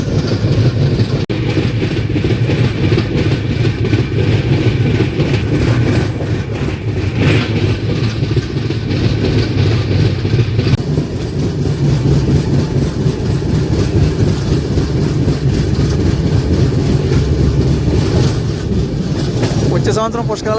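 The Tirupati–Kakinada Express 17249, running with LHB coaches on its first run, rolls toward Godavari railway station with a loud, steady rumble and rhythmic clatter of wheels on rails throughout, and a voice speaks faintly beneath it.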